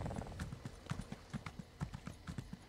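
Horse hooves clip-clop steadily in The Elder Scrolls Online, a brisk, even walking rhythm of close, distinct thuds lasting throughout, with no voices over it.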